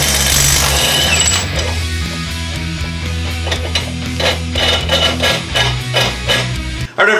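A Ryobi high-torque impact wrench runs loud and close, a steady motor whine giving way to a rapid, uneven burst of hammering impacts that cuts off abruptly near the end.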